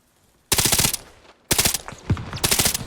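An SR3 rifle fires in the Arma Reforger video game, loud close automatic bursts separated by short silences, with no talking.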